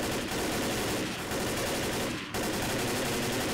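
Dense, continuous automatic gunfire rattles from Left 4 Dead co-op play against zombies, loud and unbroken apart from a brief dip near the middle.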